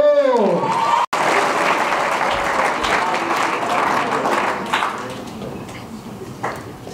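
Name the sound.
audience applause and cheering for a poetry slam performer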